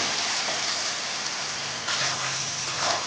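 Shrimp, taro and potato frying with spices in a pan, a dense steady hiss and sizzle that swells slightly toward the end.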